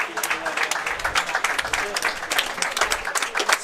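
Crowd applause in the gallery after a hard-fought men's doubles racquetball qualifying final, a dense steady wash of clapping with a few louder bursts, lasting throughout.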